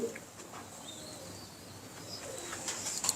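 Pigeons coo faintly in the background among other soft bird chirps over a steady low ambient noise.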